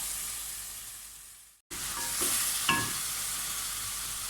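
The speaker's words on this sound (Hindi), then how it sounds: "ये चिकन को मैंने अच्छी तरह से भून लिया है" Chicken and tomatoes fry with a steady, close sizzle in a pan. The sound briefly cuts out, then the hiss resumes, and a spoon scrapes and stirs once or twice.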